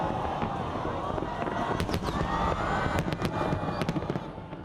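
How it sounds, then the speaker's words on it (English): New Year fireworks burst over Victoria Harbour in the city, a dense continuous crackle and boom with sharp individual pops throughout, loud and steady above a faint crowd murmur. "an 8-minute firework display lit up the harbor"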